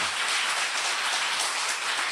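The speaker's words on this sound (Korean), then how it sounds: "감사하는 박수 좀 쳐봐요" An audience at a public lecture claps together in a dense, steady wash of applause, filling the short moment without any voices.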